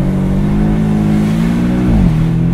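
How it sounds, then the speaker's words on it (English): A Porsche 718 Boxster S engine held at high revs during a launch-control burnout on a poor road surface in Portugal, a steady loud drone that dips in pitch near the end. "Surface isn't great, so I just did a nice little burnout."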